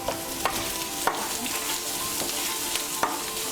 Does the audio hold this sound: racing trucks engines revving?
no